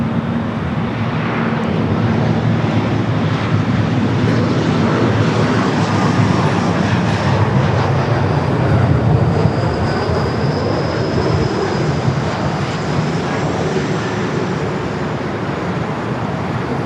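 A long-bodied airliner taking off at Los Angeles International Airport produces a loud, continuous engine roar that stays heavy and steady throughout.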